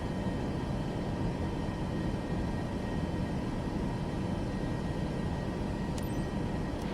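A Boeing 737 MAX 8 in Microsoft Flight Simulator 2024 gives a steady, unbroken roar of engine and airflow noise that holds at one level throughout, with a faint click near the end.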